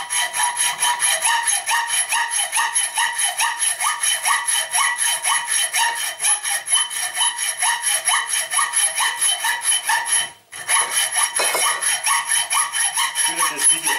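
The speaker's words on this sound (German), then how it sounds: "Ich säge jetzt an und zeige euch nachher das fertige Teil." A hand saw cuts through wood in quick, steady back-and-forth strokes, close and loud, with one brief pause before the sawing resumes.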